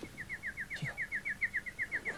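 A small bird gives a rapid, evenly spaced series of thin chirps, about a dozen in quick succession, fairly faint against a quiet room background.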